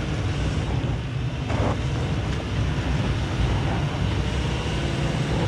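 A luxury SUV engine held at full throttle near 2,000 RPM gives a loud, steady drone mixed with heavy wind and road roar throughout, with no talking.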